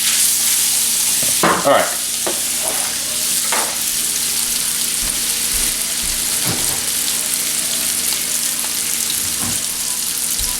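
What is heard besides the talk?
breakfast casserole ingredients frying slowly in a pan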